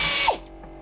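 A ratchet working a nut off a car seat belt bracket inside a Camaro, a brief close burst of rapid mechanical clicking that stops abruptly.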